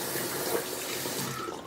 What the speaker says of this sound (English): rinse off with some warm water and take a look around